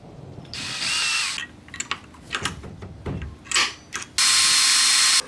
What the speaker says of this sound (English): I managed to mark the location of the screws and drill some pilot holes